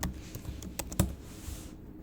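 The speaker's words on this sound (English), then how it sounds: "And then I'm going to put in my password here." Password being typed on a computer keyboard: a short run of soft, irregular key taps with one sharper keystroke near the middle, quiet and close.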